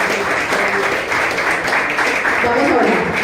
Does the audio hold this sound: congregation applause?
yes